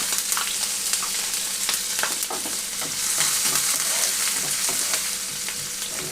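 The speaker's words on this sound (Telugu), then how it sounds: "ఇవి కొంచెం ముందుగా దోరగా వేగనిస్తున్నాను." Onions and green chillies fry in oil with a steady, close crackling sizzle, broken by occasional stirring taps over the whole stretch, and no one talks.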